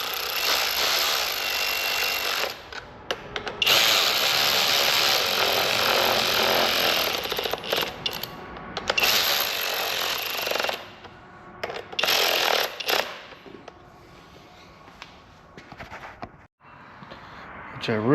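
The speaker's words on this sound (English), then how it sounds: "Run your bolts down." A power tool runs bolts down on a Ford 3.5 EcoBoost engine during a rebuild, sounding as loud, close, whirring bursts that start and stop repeatedly with short pauses between them.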